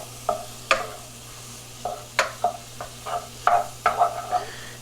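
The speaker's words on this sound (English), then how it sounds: "Add the mushroom to the mix here." Mushroom being stirred into a sizzling frying mix in a pan, a series of short scraping and clattering stirring strokes over a low steady hum, close and clear, no voices.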